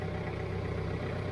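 A John Deere tractor engine idles in a steady, even low rumble with a faint clatter, close and continuous with no talking.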